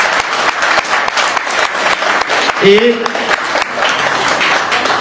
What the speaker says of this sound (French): On va encore applaudir très très très fort